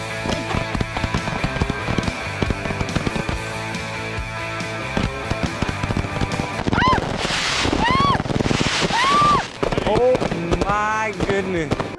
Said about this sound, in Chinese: 接着上正餐，1000美元烟花。